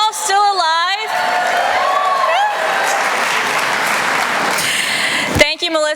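A convocation audience claps and cheers at length, a loud wash of applause with whoops, while a voice speaks over it at the start and near the end.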